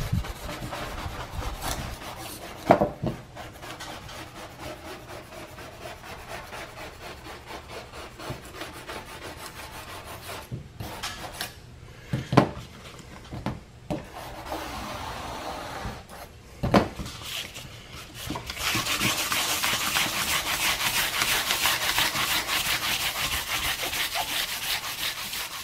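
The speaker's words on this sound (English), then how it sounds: "we got the whole roof sanded down" Sanding on the roof of a 6 x 10 cargo trailer: a long, continuous rasping scrub with scattered sharp knocks and pauses, growing louder and more steady toward the end, with no talking.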